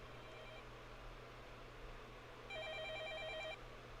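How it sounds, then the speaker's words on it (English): An electronic telephone ring in the Fate/Stay Night visual novel game, faint beeping tones in two short bursts over steady low background hum. "I get up and head to the living room to pick up the phone."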